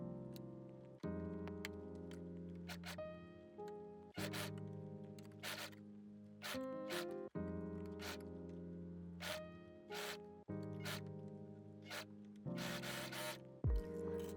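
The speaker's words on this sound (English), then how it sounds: "gently stretch the rib to match the sleeve as you serge around the edge" A serger overlocker runs around the ribbed edge of a jersey knit cardigan sleeve in several bursts of rapid, whirring stitching, each a few seconds long, separated by brief pauses, close and fairly loud with no talking.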